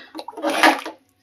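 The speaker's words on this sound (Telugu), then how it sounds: "ఇందులో వాటర్ కన్సిస్టెన్సీ కోసం కొద్దిగా వాటర్ పోసుకుందామండి" Water is poured into cooking tomato dal in a short, splashing gush that swells and then stops within about a second.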